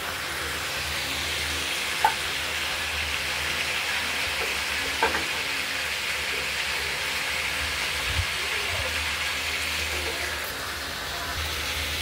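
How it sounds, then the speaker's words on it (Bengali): Panch phoron spices sizzle steadily in hot oil for a vegetarian vegetable curry, a constant crackling fry with a few sharper pops, close and alone without talk. "মশলা দিয়ে ফোড়ন দিয়ে বসিয়েছি একবারে"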